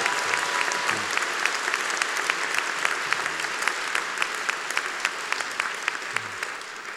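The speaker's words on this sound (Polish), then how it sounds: "To by brawa dla papieża Franciszka, oczywiście. Więc dla niego powinny być lepsze." An audience applauds for Pope Francis, the clapping thick and continuous with sharp individual claps standing out in a loose rhythm. It stays steady and full throughout, with no voices.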